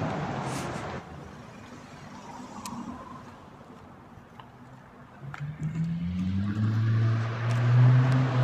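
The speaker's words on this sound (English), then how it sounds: "Sound like a lot of power in that car." A powerful car on a downtown street in Duncan, British Columbia, approaches and rises into a loud, deep engine roar that builds toward the end, heard from the sidewalk over faint street ambience.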